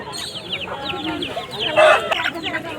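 Native breed chickens on a chicken farm, several birds clucking and squawking close by in quick overlapping calls, with one louder burst midway and faint voices in the background.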